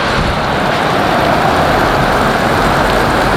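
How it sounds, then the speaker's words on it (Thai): Heavy rain pours down at an unfinished warehouse on a plot of land, a loud, dense, continuous hiss of rainfall with no voices. "ตอนนี้ฝนกำลังตกหนักเลยครับ"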